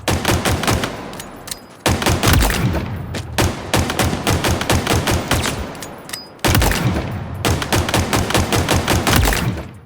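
MK50 Sidekick pistol in Halo Infinite fired in rapid, evenly spaced shots, loud and close, in bursts with brief pauses while reloading, on a target range.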